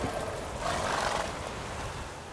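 A horse whinnies in Witcher 3: Wild Hunt at a race finish near Crow's Perch, a drawn-out neigh rising over a thick bed of ambient game noise and rumble, fairly close and loud, with no talk.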